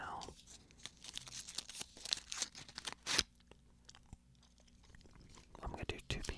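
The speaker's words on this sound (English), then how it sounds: "I'm going to unwrap the gum right now." Chewing gum being unwrapped up close, crisp crinkling and tearing of the wrapper in irregular bursts, with soft whispering around it.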